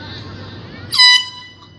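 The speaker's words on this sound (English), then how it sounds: "I dare you to spray the air horn in your mouth." A brief, loud air horn blast from a handheld canned air horn sounds near the end, cutting in sharply over background room noise after a moment of low chatter.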